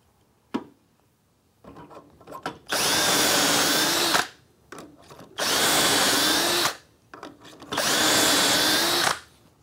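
A power drill bores dowel holes in a wooden workpiece held in a Dowelmax doweling jig, running in three separate, loud, steady bursts of about a second and a half each, with short quiet gaps and small clamp handling noises between them.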